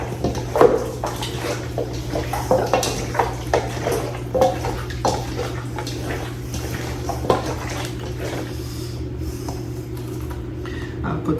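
Cayenne pepper is stirred into a pot of Jamaican curry chicken, with repeated scraping and clinking of a utensil against cookware over a steady low stove hum, the knocks irregular and close.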